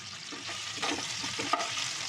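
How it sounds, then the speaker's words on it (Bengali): Marinated chicken pieces fry in oil, making a steady close sizzle, while being turned over with a few scraping and clinking stirring sounds, and no one speaks. "এগুলো উল্টে পাল্টে ভেজে নেব"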